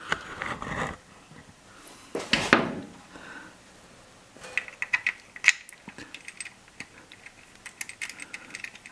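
A hex drain plug being threaded back into the sump of a Ducati XDiavel with an Allen key, giving soft close metallic ticks and ratcheting clicks near the end, after a few dull handling knocks and rustles in a quiet workshop.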